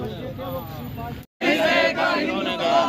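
A crowd at a Congress party protest in Jhunjhunu shouts slogans against Modi in loud, rhythmic unison, the chant broken by one brief pause before resuming with voices close and massed.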